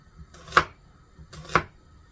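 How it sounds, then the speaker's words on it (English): A knife chops onions in two distinct, close strokes about a second apart, each a crisp thud on a cutting board, with near silence between them. "I'm going to get these onions chopped up."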